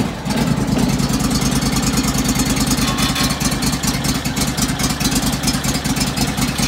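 A John Deere LX277 lawn tractor engine runs at a fast, even idle just after a cold start on a January day, close up and loud with a steady rhythmic chug and no talking.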